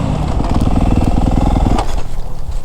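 Motocross dirt bike ridden on a backyard track, its engine buzzing loud and close with a steady throttle-driven rhythm that eases off near the end.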